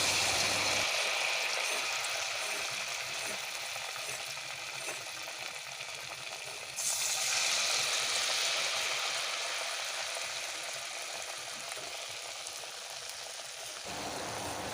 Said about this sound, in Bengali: এবার এই কুমড়োগুলো ভালো করে ব্যাটারের গায়ে লাগিয়ে কোট করে দিয়ে দিয়ে দেবো কড়াইতে গরম তেলের মধ্যে